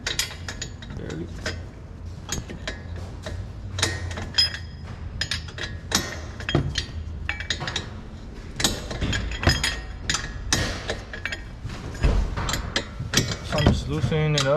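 A wrench loosening the upper brake caliper bolt on a Nissan 370Z during a rotor swap: repeated metallic clicks, ratcheting and clinks in irregular bursts, close by, with scattered clanks from the work.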